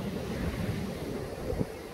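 Gusty typhoon wind roaring at the coast near Jukdo Park in Songjeong, buffeting the microphone, with a deep rumble like surf underneath and a brief thump near the end.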